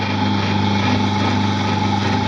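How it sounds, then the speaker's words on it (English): Drill press running steadily with a mid-range bit in a tiny house trailer build workshop, a constant close motor hum with steady tonal whine throughout, no talking. "just getting the drill press going"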